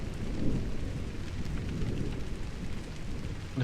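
Thunderstorm with steady rain in the video game Drizzlepath, a dense low rumble of thunder rolling under continuous rain hiss, loud and unbroken throughout with no voices.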